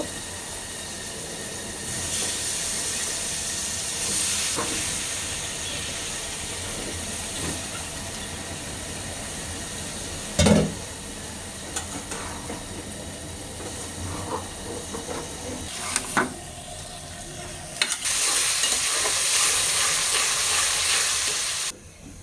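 Mixed vegetables frying in a cooked-down spice masala with ginger-garlic paste, a constant close sizzle and hiss broken by a few sharp knocks and scrapes of stirring, ending in a louder burst of frying.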